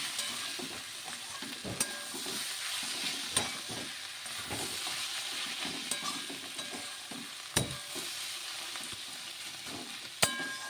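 Bottle gourd curry with lentil dumplings and roasted cumin powder stirred in a pan: a continuous soft sizzle with irregular scraping strokes and a couple of sharper knocks, heard close and without talk.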